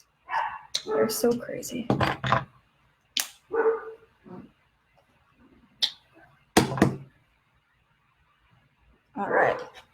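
Dogs bark indoors in several short, sharp bursts spaced irregularly across the clip, fairly close and loud, with a person's speech in between.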